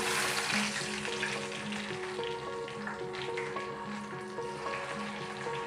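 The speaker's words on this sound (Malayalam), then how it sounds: "ഇനി നമുക്ക് കുഞ്ഞുള്ളി വറുത്തെടുക്കാം." Shallots fry in oil for ginger curry with a steady, continuous crackling sizzle, moderately quiet and unbroken throughout.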